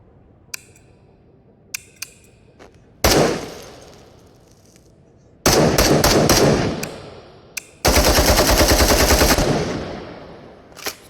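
An AK-pattern rifle chambered in .308 fires in the Into the Radius VR game: a few mechanical clicks, then a single loud shot, then two sustained full-auto bursts with a long reverberant tail.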